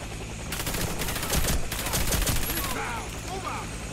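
Rapid bursts of gunfire from the video game Warface crackle in quick succession over a steady background hum, growing denser in the middle before tapering off.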